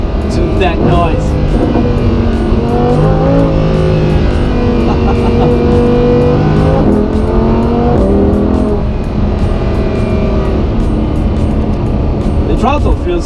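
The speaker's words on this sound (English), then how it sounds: "we can enjoy the sport mode of the Huracan. Just listen to that noise." A Lamborghini Huracan in sport mode driving at moderate speed on a California road, its engine a loud continuous roar with rising and falling revs and a deep rumble throughout, no talking over it.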